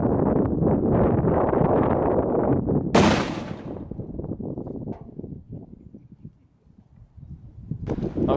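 A homemade golf ball cannon fires outdoors at a car door target: one sharp, loud blast cuts through steady gusting wind noise, with rustling and scuffing around it.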